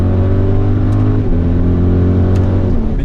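Audi RS Q8 engine under load through an 8-speed Tiptronic automatic, a loud, steady drone with brief dips in pitch as quick gear changes land, no voices.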